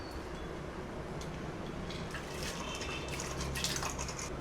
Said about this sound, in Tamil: இப்போ அந்த தண்ணியில் பருப்பு அள்ளி போட்டுக்கணும்